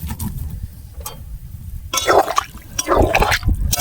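Water poured into a cooking pot of potatoes and cauliflower, two splashing bursts of liquid after some quieter clatter, close and fairly loud.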